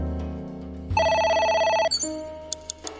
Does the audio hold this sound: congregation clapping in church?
no